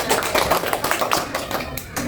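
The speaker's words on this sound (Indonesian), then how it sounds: "Nah, tepuk tangan untuk anak semua." Children clapping together in a second-grade classroom, a quick rhythmic patter of small hands, close and fairly loud, with voices mixed in.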